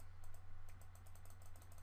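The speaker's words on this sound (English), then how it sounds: "You can hear me clicking my mouse a lot" A computer mouse clicked rapidly during photo editing on a computer, giving a quick run of light, close, crisp clicks over a low steady hum.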